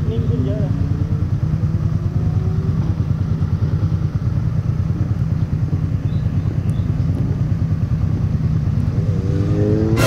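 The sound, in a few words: riding a motorcycle on the road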